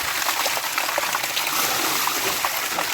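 Cold water splashes and trickles steadily as someone washes their face, a close, continuous hiss of running water lasting a few seconds.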